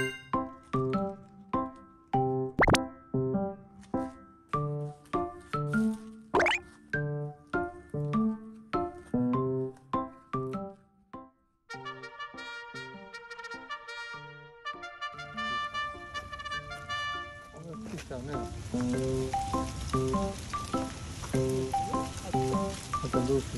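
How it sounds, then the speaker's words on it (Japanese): Heavy rain pours down as a steady, dense hiss that grows stronger in the second half, partly masked early on by louder plucked, melodic music. "雨すごいよ。 結構強いよね。"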